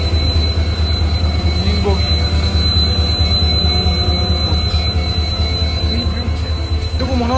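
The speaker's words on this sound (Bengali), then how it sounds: "এই দেখো Santragachi station, south eastern railway" A train at Santragachi railway station on the South Eastern Railway, with a loud, continuous rumble of rolling wagons, squealing wheels and rhythmic clatter running throughout, up close.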